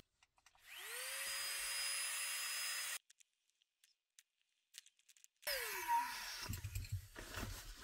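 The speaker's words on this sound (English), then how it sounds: "since I'm impatient, I brought a little tiny pump" Tiny battery air pump inflating a self-inflating sleeping pad for winter car camping, a motor whine rising in pitch as it spins up and running steadily, cutting off, then starting again, close and quiet with small handling noises between.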